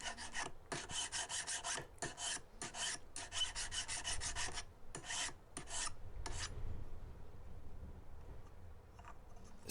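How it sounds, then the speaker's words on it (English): A coarse metal file shapes a silver piece for a chess set in rapid, regular rasping strokes, each a crisp scrape, close and clear, before the filing stops and a quiet pause follows. "coarse file that takes off quite a lot of material"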